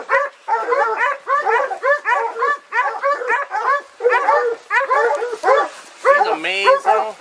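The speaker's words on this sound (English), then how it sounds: "Hey, I want to take my dogs to him, all right?" Hunting dogs bark in rapid, repeated bursts at hogs held at bay during a Florida hog hunt, loud and close, with the barking continuing steadily in clustered volleys.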